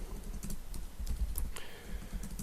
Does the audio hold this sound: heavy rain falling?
no